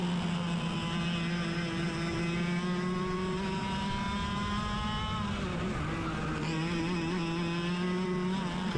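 Car lapping a race track at speed, its engine droning steadily and loudly throughout with pitch rising and falling through gear changes and corners, heard from close inside the car.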